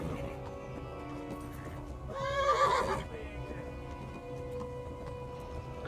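A horse in the video game Kingdom Come: Deliverance gives one shrill, wavering neigh that lasts under a second, heard over a low steady background hum.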